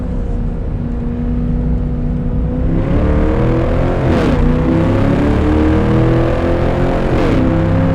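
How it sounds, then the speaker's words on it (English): A Chevrolet C8 Corvette drives up Pikes Peak on a cold, snowy day, its engine droning loud and steady, rising in pitch with two brief dips as it shifts or lifts off the throttle. "We're attacking Pikes Peak in our C8 Corvette"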